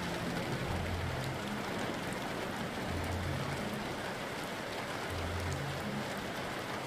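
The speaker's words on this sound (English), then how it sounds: "Rain's nice." Steady, soft rain hissing on surfaces, a faint, even wash of droplets with no other sound breaking through.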